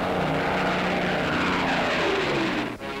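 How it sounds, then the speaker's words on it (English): Propeller bomber planes loaded with 12,000-pound bombs climb away on a 1944 newsreel soundtrack. A dense, continuous engine drone fills the whole stretch at steady loudness, with a slight dip near the end. "the planes climb toward the North Pole"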